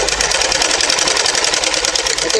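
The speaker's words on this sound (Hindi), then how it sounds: "अभी ये सेम मैं यहाँ तक सिलाई करके लेती हूँ" Sewing machine stitching a seam on a baby cap, a brief, steady, rapid mechanical whir running continuously at close range.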